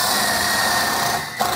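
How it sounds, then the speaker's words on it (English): A self-tapping screw being driven into a steel cross brace during an air suspension compressor install on a 2021 Ford F-450, heard as a steady, loud whirring buzz close by that briefly dips near the end. "Then self-tap that into that cross brace."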